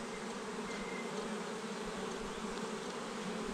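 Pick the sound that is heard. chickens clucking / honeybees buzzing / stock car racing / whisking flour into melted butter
honeybees buzzing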